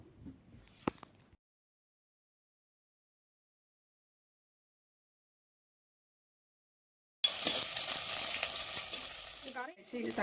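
Green chilies are added to a pan for a Kerala-style fish curry. A faint rustle is followed by a long silence, then a loud, steady sizzle bursts in and continues to the end.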